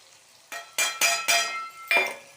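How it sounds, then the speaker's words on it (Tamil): Pumpkin and eggplant being stirred in a pan with salt and turmeric, five distinct scraping, sizzling strokes of a spoon in quick succession, close and clear with no talk. "ரெண்டு கிளறி விடுறேன்."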